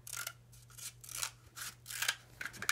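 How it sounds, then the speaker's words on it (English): Scissors snip through cardboard paper towel rolls to cut them in half, making a run of close, crisp cuts in an uneven rhythm, quiet and without talk. "I am going to cut the paper towel rolls in half."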